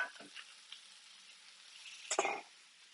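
Food sizzles steadily in a frying pan, cooked like hamburgers rather than sautéed, a faint continuous hiss with a couple of brief louder scrapes or stirs.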